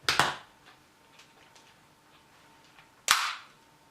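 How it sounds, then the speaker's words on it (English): Parts of a Transformers Titans Return Blaster toy are folded and tabbed into place: two sharp plastic clicks, one at the start and one near the end, close and crisp over a quiet background. "take the whole thigh and bring it up and forward like this, and we fold it up again, and we tab everything in."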